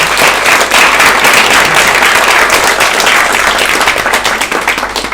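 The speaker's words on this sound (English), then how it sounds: "Please clap your hands for you." An audience at a usability testing meetup applauds, loud and dense clapping sustained throughout before easing slightly at the end.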